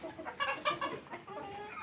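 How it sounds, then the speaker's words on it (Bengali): Tiger breed chickens on a farm in Bakshiganj, Jamalpur cluck in short bursts, several close calls overlapping briefly and then trailing into softer clucking with faint background farm noise. "দেখতে পাচ্ছেন টাইগার মুরগি এগুলা"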